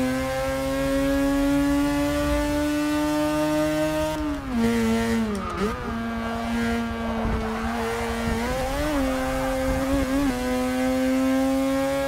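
Racing car engine in Forza Motorsport 6 holds a loud, steady high-revving drone, its pitch dipping and climbing through gear changes midway before settling back to a sustained whine.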